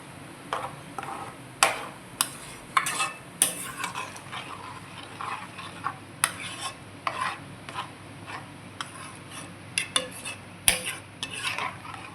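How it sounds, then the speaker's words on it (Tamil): A spatula repeatedly scrapes and stirs in a pot as blended curd is mixed into a Tamil buttermilk curry, producing sharp, uneven scraping strokes over a faint background sizzle, close and fairly loud. "ஊற்றிட்டு நல்லா கலந்து விட்டுருங்க"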